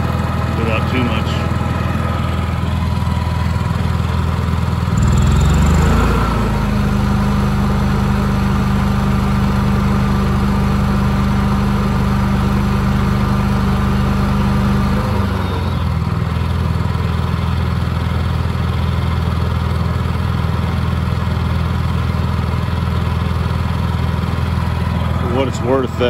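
A Honda EU7000is inverter generator running on natural gas with a US Carburetion Motor Snorkel tri-fuel kit: a steady, loud engine hum whose pitch rises and settles again as load changes, with a voice talking over it.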